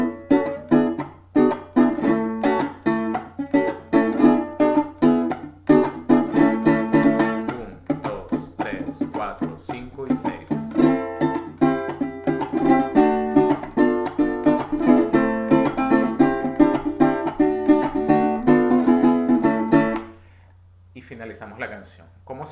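Venezuelan cuatro strummed in a steady, driving rhythm through the closing section of Maracaibo 15 (La primavera), close and full, then stopping abruptly near the end with a few faint sounds after.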